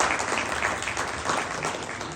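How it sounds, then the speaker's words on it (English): Steady applause from a crowd, clapping evenly throughout, moderately loud with no voices. "Jennifer Shook, she is somebody worthy of applause. So let's give her a hand"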